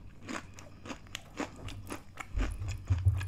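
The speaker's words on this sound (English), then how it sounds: "Y'all hear that crunch?" Crunchy fried okra being bitten and chewed close to the mic, with a run of sharp crunches and crackles in a steady chewing rhythm and no talk.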